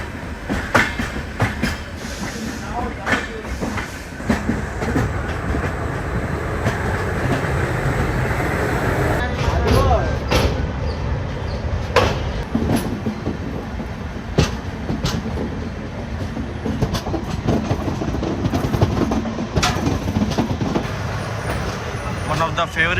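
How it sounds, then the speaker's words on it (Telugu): Amrit Bharat Express push-pull train on its inaugural run through Andhra Pradesh, heard onboard as a steady rumble with a rhythmic clickety-clack of wheels over rail joints and sharp periodic clanks, while voices come through at times. "సో ఈ ట్రైన్ మనకి పుష్పుల్ టెక్నాలజీతో వస్తుంది కదా, యాక్సిలరేషన్ ఏ విధంగా ఉంటుంది అనేది చూద్దాము."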